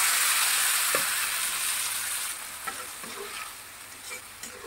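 Dried fish (shutki) fries in a pan with chili and spices, giving a loud, continuous sizzle that softens slightly over time, with a few faint stirring taps.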